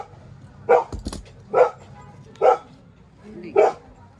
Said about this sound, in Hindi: एक डॉगी और अंदर है